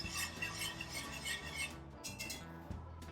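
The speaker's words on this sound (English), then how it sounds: "keep stirring" Butter sauce being stirred in a pan for barbecue shrimp, a steady soft scraping and swirling with light clinks of utensil against metal, close and continuous with no talking.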